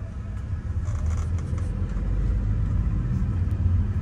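A car being driven in São Paulo traffic gives off a low engine rumble that builds gradually as it accelerates, heard from inside the vehicle with no talking.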